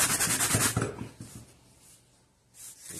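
A brush scrubbing a car's carpet that has been sprayed with cleaner, heard as rapid, close rubbing strokes that taper off, then one last brief scrub.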